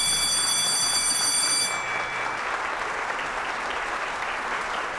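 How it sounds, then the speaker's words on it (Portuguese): Warm applause fills a hall at a solemn session marking the Rio de Janeiro diocese's 350th anniversary, a sustained, even wash of clapping at moderate distance with a faint tonal sound fading out early. "a quem eu peço uma calorosa salva de palmas"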